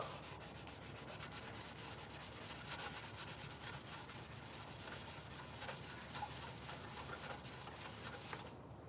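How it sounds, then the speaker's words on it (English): Steady rubbing of sandpaper while working on a Jeep, a continuous rasping scrape with a fast repetitive stroke rhythm, close and fairly quiet, with no talking. "Right now, I guess all we're doing is sanding like normal."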